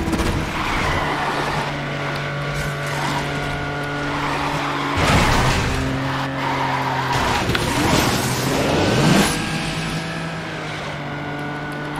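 A car drifts in the racing game Asphalt 9, with a sustained engine drone and long tire squeals that swell twice. The sound is loud and continuous, with game music tones running underneath.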